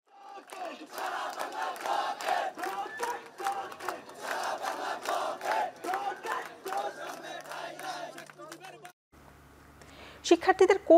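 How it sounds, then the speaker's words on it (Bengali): A crowd of protesters chants slogans in loud, rhythmic unison, demanding quota reform in government jobs. The voices drop away near the end, leaving quieter background noise and a few sharp sounds. "সরকারি চাকরিতে কোটা সংস্কারের দাবিতে বিভিন্ন ব্যানার, ফেস্টুন নিয়ে স্লোগান দেন আন্দোলনকারীরা"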